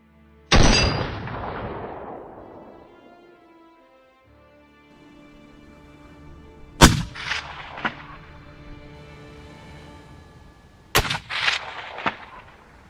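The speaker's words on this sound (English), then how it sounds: "The explosion resounded in the air." A hunter's rifle shot at a baboon in South Africa lands as one loud, booming report with a long echoing tail, followed later by further sharp cracks over sustained background music.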